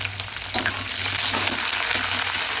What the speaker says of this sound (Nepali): म प्याज हालिदिन्छु